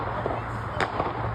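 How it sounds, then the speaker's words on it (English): Gunshots on the Florida State University campus crack out as a few sharp reports in quick succession, heard in a brief burst of news footage. "The gunshots ringing out across the campus."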